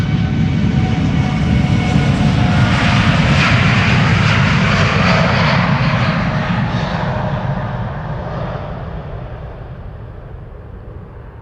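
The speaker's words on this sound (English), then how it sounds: "Hey Europa, flight 1098 to Madrid, 7879 Dreamliner" A TUI Boeing 787 Dreamliner jet departs Amsterdam Schiphol with a loud, continuous engine roar, close at first and slowly fading as it climbs away.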